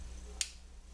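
A single sharp, faint mechanical click from the hammer of an M9 Beretta pistol, heard once against a low background hum.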